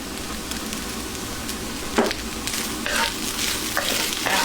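Chicken sisig with red and green chili sizzling and being stirred in a hot pan, a constant close frying hiss broken by a few sharp scraping stirs.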